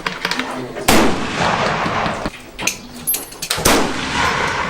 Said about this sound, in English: they're gambling, and they're shooting 5 cards